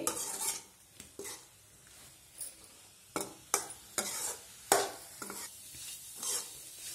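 Food fries in a pan over a medium flame while a utensil stirs and scrapes it in repeated bursts, with clinks of metal on the pan over a soft steady sizzle.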